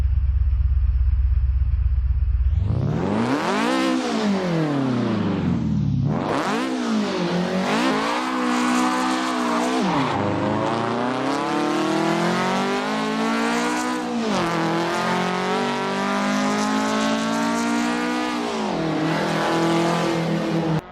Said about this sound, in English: here's the race version of the AE86, so take a listen.